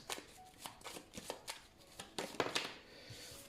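Runes being drawn and shuffled from a set, a run of quick clicking, rattling taps at close range, repeated in an uneven rhythm with no voices.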